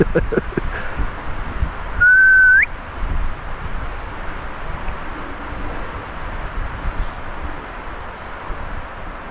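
A single clear whistle, held briefly and then rising at the end, sounds in a dark woodland at night over a quiet, low background hush.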